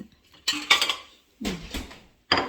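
Plates and dishes clink in three separate bursts as hot plates are brought out, sharp clattering knocks with short pauses between them, close and fairly loud, with no voices.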